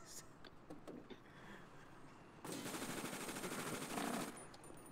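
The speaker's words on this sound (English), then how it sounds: "Who's shooting?" Rapid gunfire from GTA 5 roleplay, fairly quiet and distant at first, then a sustained louder burst of machine-gun shots for about two seconds before it fades back to background noise.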